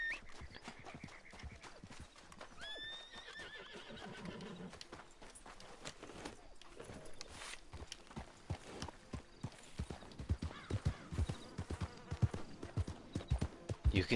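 Horse hooves clip-clopping in the Red Dead Redemption 2 Online video game, steady close hoofbeats throughout with a whinny early on, the clopping growing denser and louder toward the end.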